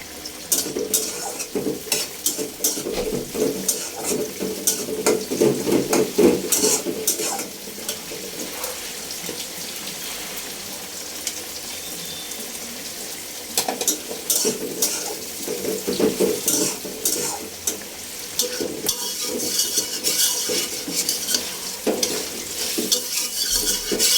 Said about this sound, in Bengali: তো আমি এই চুলায় মাছের জন্য পেঁয়াজ কাঁচামরিচ দিয়ে দিলাম।